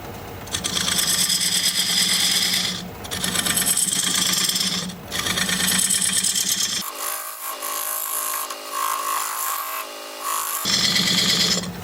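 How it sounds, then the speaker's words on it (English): A diamond point tool scrapes and cuts against spinning wood on a lathe while squaring a tenon, giving loud rasping bursts broken by short pauses, then a thinner hissing cut before the heavy scraping returns. "I'm going to use this diamond point tool to square up the sides of the tenon."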